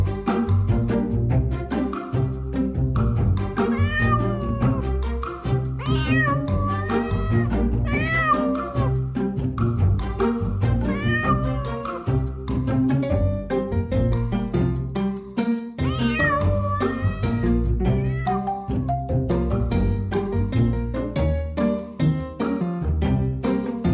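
A kitten stuck high in a tree at night in Al Qusais, Dubai, meows insistently, its loud, drawn-out cries repeating again and again over a constant background hum.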